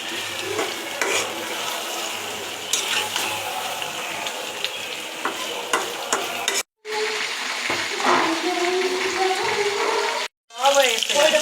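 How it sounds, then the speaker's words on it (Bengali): Meat frying in a pan for a sizzler at a picnic, a steady loud sizzle with stirring scrapes, broken by two brief cuts, with voices faintly in the background. "মাখো মাখো করে ভাজছি আর কি।"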